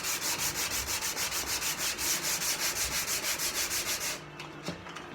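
Hand sanding of a wooden plugged cleat with 120 grit sandpaper gives a steady rhythmic rasp of back-and-forth strokes, close and fairly loud, with no talk, before stopping near the end.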